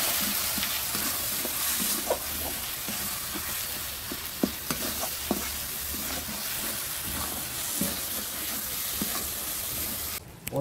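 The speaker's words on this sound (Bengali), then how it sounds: "এবার ভালো করে কষিয়ে নেব।" Chicken with turmeric and chili powder stir-fried in a pan, a steady close sizzle with scraping stirs and occasional spatula knocks against the metal throughout, no voices.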